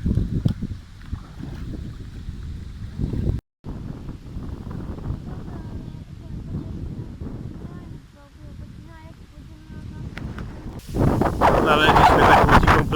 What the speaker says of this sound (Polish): zrywa się coraz większy wiatr